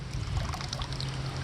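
Water runs and trickles into a koi pond filter, a steady splashing pour heard close up alongside a low hum, brief and continuous.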